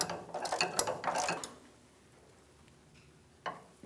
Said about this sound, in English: I had some good leverage with this ratchet, so that's done.